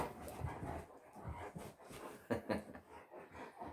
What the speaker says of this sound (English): I've got a destructive dog.